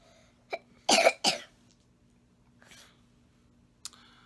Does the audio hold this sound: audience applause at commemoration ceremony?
no